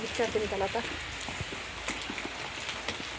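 Soft rain patter continues in the background, close and even, beneath a woman's brief speech.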